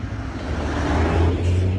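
Emergency vehicles roll past outdoors near a burning rubbish fire at a dacha yard outside town in Germany, a steady close vehicle drone with low engine hum rising slightly, continuous for a couple of seconds without voices.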